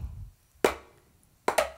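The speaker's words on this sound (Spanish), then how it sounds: "Pego con las falanges, las primeras falanges de los tres dedos, en el borde del tambor" Fingertips strike the rim of a tambor drum in a folk drumming lesson: one sharp, dry slap, then a pause, then two quick slaps close together, each fading fast.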